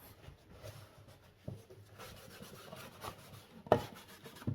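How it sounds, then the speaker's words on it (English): A cloth wipes excess wood stain off a wooden box and into its cracks, giving soft, continuous rubbing strokes with a few sharper scuffs, fairly faint and close. "Get the cracks, you know, just get the excess stain off."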